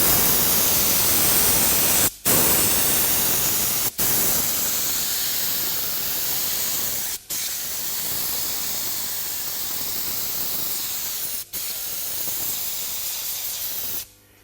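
A paint spray gun sprays the full paint mixture in a steady, loud, continuous hiss, broken by four short cutoffs where the trigger is released, with no talking.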